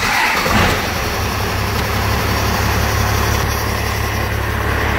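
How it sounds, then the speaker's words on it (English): A second-generation Dodge Ram pickup's engine cranks and catches, then settles into a steady, close, rumbling idle with no voices. "we've got the truck started now"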